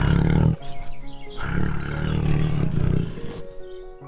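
Tiger roaring in a children's phonics song, a few loud, deep growling roars in close succession, with musical backing underneath.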